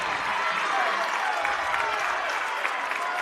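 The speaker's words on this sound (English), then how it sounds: "Both crowds starting to get fired up." Spectators at a girls' high school state volleyball quarterfinal in Iowa cheer and clap steadily, a dense wash of applause and crowd noise filling the gym, with a commentator's voice faintly underneath.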